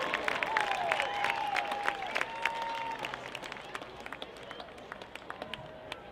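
Crowd applause at a high school football game, Camarillo at Oaks Christian, after a cheer clinic, with steady clapping from a distant stadium crowd and a few shouts, fading toward the end.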